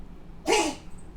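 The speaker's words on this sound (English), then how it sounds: "I'm sneezing." A single sharp sneeze bursts out over a quiet background, loud and close, fading quickly.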